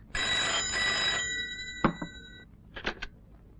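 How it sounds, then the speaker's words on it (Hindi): An old-style telephone bell rings loudly for about a second in a 1992 Hindi film scene, then fades, followed by a few soft clicks and knocks. "विजय का फोन है, कह दो कि मैं नहीं हूँ।"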